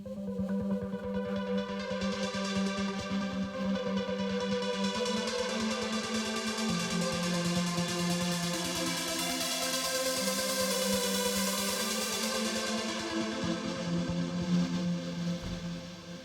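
A Spire synth plays a JP-style arpeggio lead, a bright, steady stream of rapid repeating notes over sustained chords, continuous and prominent for the whole stretch.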